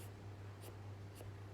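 A pencil marking lines on wood while laying out the handle of a wood float: three quiet, brief scratching strokes, evenly spaced about half a second apart, over a low steady hum.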